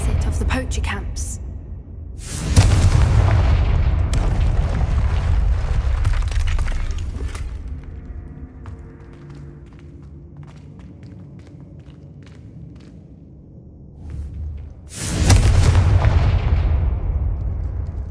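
A Confringo blast spell cast in Hogwarts Legacy, loud booming explosion bursts near the start and again near the end, separated by quieter rumbling with a voice speaking over the action.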